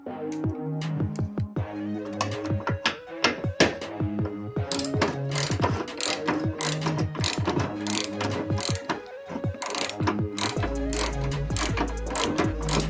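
A ratchet wrench loosening a bumper bolt on a Ford Fiesta, rapid clicking pawl strokes repeating in quick bursts throughout, close and fairly loud with no talking.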